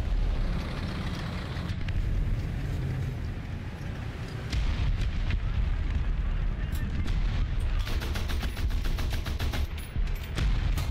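Gunfire in the War Thunder video game: dense, continuous bursts of rapid shots and booming blasts that fill the whole stretch at high volume, with a few brief lulls between bursts.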